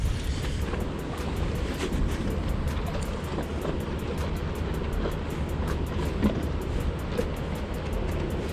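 Wind blows across the microphone at the waterside during street fishing for perch, a steady low rumbling buffet with a faint wash of water behind it and no voices.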